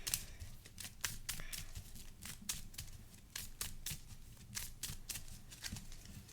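Marvel Champions card game cards being shuffled by hand, a series of quick crisp riffling bursts in an irregular rhythm, close and fairly quiet, with no talking.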